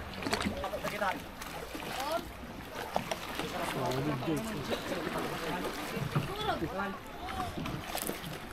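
A tour boat moves across water at the Hundred Islands, Alaminos, Pangasinan, with sloshing and splashing against the hull, while people talk and call out nearby throughout.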